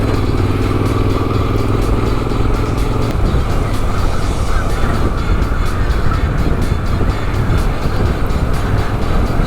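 A dirt bike climbs a sandy hill in fourth gear, its engine loud and steady, chugging under load close by, with a drone that shifts character partway through and no talk.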